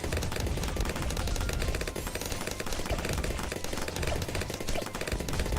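Sniper monkeys firing in the tower-defense video game Bloons TD 6, a steady dense stream of sharp gunshot-like pops layered over busy game effects, loud and continuous throughout with no talking.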